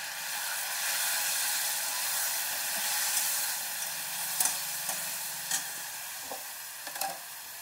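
Grated tomato sizzles in a pan for a garlic chicken liver roast, a steady frying hiss over several seconds with scattered spoon scrapes and taps toward the end, no voices.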